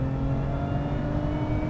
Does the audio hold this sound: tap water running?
no